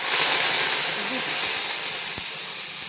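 Yogurt hitting hot oil seasoned with black cumin and green chillies for doi ilish gives a loud, steady sizzling hiss that holds from start to finish and fades only slightly.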